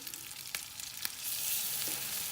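Garlic frying in a pan for Gaziantep beyran, a soft steady sizzle that swells louder toward the end, with a couple of brief clinks of a utensil against the pan.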